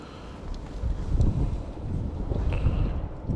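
Outdoor wind buffeting a microphone beside a Mash 125 motorcycle during an oil change, low rumbling gusts that swell and fall unevenly, loudest midway.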